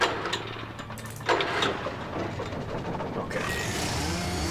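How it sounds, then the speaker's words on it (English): Chainsaws rev and drone in Alan Wake, a buzzing motor that swells and settles across several seconds, with one short spoken word over it. "Oh, chainsaws, that's why."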